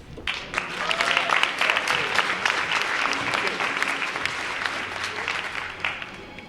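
A Black History Month celebration audience gives a round of applause for youth performers, with dense, steady clapping and some voices mixed in.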